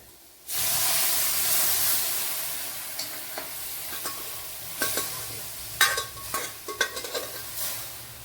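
Cooked yam stems poured into a hot pan, setting off a loud sudden hiss that eases into a steady sizzle, followed by a run of sharp clinks and scrapes as the mix is stirred.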